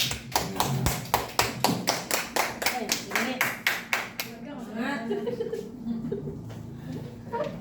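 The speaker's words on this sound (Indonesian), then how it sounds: "Tepuk tangan buat Bu Dini." At a school session on positive culture, a small group claps in a quick, rhythmic burst of sharp, close hand claps for a teacher, Bu Dini, then the clapping stops and light chuckles and murmured voices follow.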